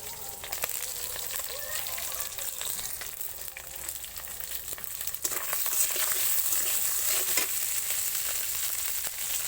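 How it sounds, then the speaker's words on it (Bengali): Crushed garlic and onion fry in a pan with a steady, dense sizzle that grows louder about halfway through, with occasional stirring clinks. "পেঁয়াজ পেঁয়াজ আর রসুনটা আমি ভালো করে ভেজে নেব"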